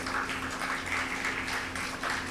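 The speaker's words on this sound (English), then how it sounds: "a big round of applause." Audience applause at a data users' conference on a time use survey, a steady dense clapping that continues without a break, moderately loud throughout.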